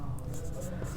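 A pen scratches across paper while a maths solution is written out, a brief, close run of light scratchy strokes over a low background hum.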